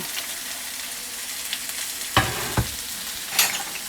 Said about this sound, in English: I just put all the vegetables in there